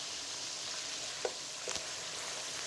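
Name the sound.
frying chicken curry with yogurt and spices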